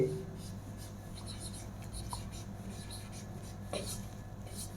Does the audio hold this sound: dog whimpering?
no